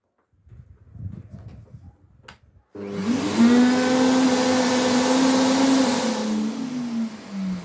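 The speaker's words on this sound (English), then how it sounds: "Just turn it on, vacuum for 5 seconds." A Bosch AdvancedVac 20 vacuum cleaner switches on abruptly and runs with a loud, steady whine and roar after a few seconds of quieter rustling.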